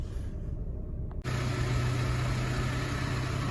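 A 1998 Saab 9-3 2.0i automatic idles with a steady low rumble, starting after a short moment of quieter hiss and continuing evenly.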